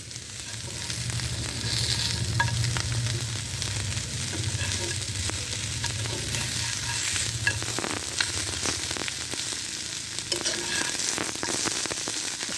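Sundarbans crab frying in a pan with sliced bitter gourd, a steady close sizzle with occasional stirring scrapes running throughout, with no talk.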